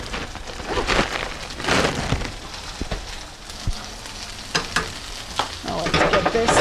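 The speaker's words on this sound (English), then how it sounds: "I'm gonna add a good handful of my frozen peas" Frozen peas sizzle and fry with garlic in a hot pan, a steady crackling hiss with sharper pops and stirring scrapes through it, close and fairly loud, with no talking.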